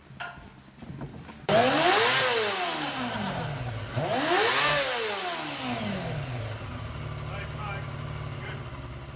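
A track motorbike engine revs up and down twice in sweeping surges, then settles into a steady idle, loud and close.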